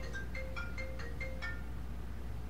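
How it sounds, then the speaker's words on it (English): A cell phone plays a short melodic ringtone of bright rising and falling beeps in quick succession, fairly faint over a steady low hum, with no talking. "I don't know why my phone's making noise."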